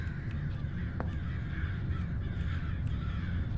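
Crows caw repeatedly in a horror video game set in a haunted orphanage, a series of harsh, mid-loud calls over a steady low ambient drone, with no talking.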